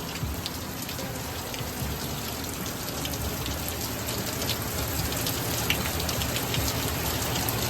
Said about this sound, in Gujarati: કાલે વરસાદ તો ફૂલ ચાલુ હોય